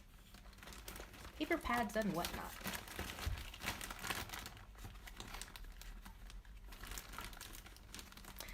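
Paper scraps and crepe paper being rummaged through at a craft table, with soft crinkling and rustling that comes and goes beneath a person's voice.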